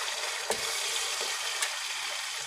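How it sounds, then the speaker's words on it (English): Peppers and pimento seeds frying in a pan for curry chicken, a steady close hiss of sizzling with a few sharper pops and crackles, no voices. "You can hear that lovely frying, beautiful."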